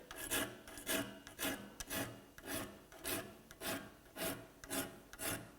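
A file rasps across frame saw teeth to sharpen them and put a micro bevel on their backs, about ten steady rhythmic strokes, close and clear with no talking.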